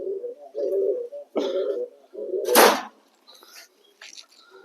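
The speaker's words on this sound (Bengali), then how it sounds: "চলুন পায়রাটাকে ধরি ধরে পায়রাটা এবারে আস্তে আস্তে করে ধরে" A pigeon gives low, repeated coos up close as it is caught by hand, with a sharp rustling flap of wings midway and quieter coos after.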